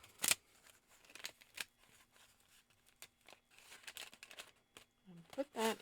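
Scissors trim paper for a handmade Christmas document journal, a run of quick snips and crisp paper rustles, with a sharper cluster of cuts near the end.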